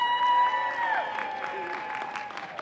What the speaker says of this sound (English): So please, a huge round of applause